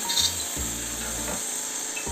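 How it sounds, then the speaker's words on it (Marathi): Butter sizzling on a hot tava griddle as it melts under stuffed masala pav, a steady close hiss with a few scraping touches. "तवा गरम झाला की यामध्ये मी बटर घालून घेतला आहे"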